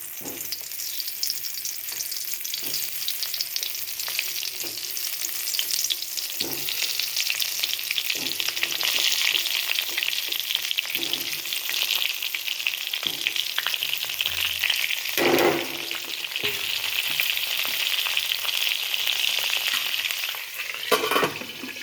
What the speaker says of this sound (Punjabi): ਆਪਣਾ ਤੇਲ ਗਰਮ ਹੋ ਚੁੱਕਿਆ ਹੈ ਹੁਣ ਇਸ ਵਿੱਚ ਆਹ ਭਰੇ ਹੋਏ ਬੈਂਗਣਾਂ ਨੂੰ ਪਾਵਾਂਗੇ